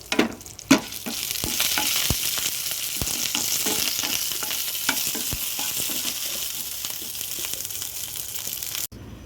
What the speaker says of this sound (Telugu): ఇప్పుడు కరివేపాకు అయితే వేస్తున్నాము